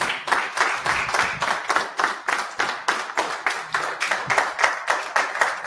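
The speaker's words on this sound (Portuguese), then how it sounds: "Aplauda Jesus." Church congregation clapping in steady rhythmic unison during an evening family worship service, each clap sharp and distinct, repeating at a brisk even pace for several seconds with no talking.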